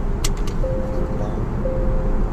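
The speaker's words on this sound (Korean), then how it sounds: "비행기에서 나오는 안전벨트 경고음과 거의 유사한 정도의 아주 고급스러운 음량인데" Seatbelt warning chime in a Genesis GV70 SUV: two soft, smooth tones about a second apart, heard over steady low cabin and road noise.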